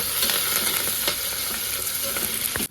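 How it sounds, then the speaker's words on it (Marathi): Onion and a curry leaf fry in hot oil, making a loud, dense, continuous sizzle up close with a few soft stirring scrapes, cutting off abruptly at the end. "त्याच्यासोबतच कांदा टाकणार आहे तळण्यासाठी कांद्यासोबत एक कडीपाल्याचं पान आहे टाकून घेतलं"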